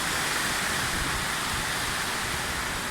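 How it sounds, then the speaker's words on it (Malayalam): Heavy rain pours down with gusting wind during a rainy day on the road, a dense, even hiss that fills the whole moment without pause or speech. "കാറ്റും മഴയും എല്ലാം കൂടി വന്നിട്ട് ഞങ്ങൾ ഒരു സ്ഥലത്ത് കയറി നിൽക്കുകയാണ്"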